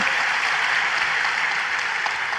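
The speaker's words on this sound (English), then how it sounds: "So, yes, round of applause." Audience applause fills the space from start to finish, a dense, steady wash of clapping from a large crowd at a talk, with no voices over it.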